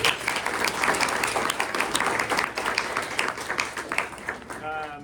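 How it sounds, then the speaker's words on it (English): A room of guests at a press luncheon claps in a loud, dense round of applause that carries steadily, then tapers off at the very end as a voice briefly begins. "Let's give them a round of applause."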